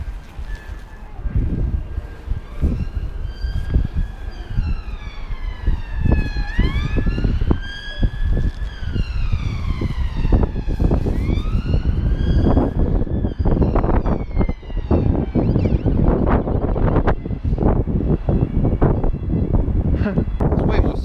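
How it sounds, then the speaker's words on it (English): Several police car sirens wail and rise and fall in overlapping sweeps as they approach, loud and sustained over busy street noise, thumps and voices throughout. "Police cars coming this direction."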